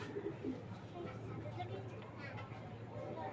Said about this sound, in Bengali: মাদি কবুতর, একটা গ্রিজেল মাদি